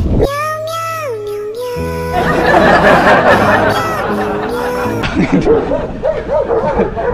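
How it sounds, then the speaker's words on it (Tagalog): A large dog barks in loud bursts close by in a forest in Hungary, mixed with squeaky animal cries and overlapping voices of people chattering. "Ito yung aso. Ang laki ng aso."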